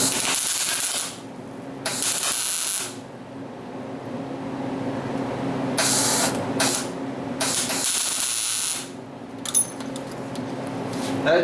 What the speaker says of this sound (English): That J-hook's welded.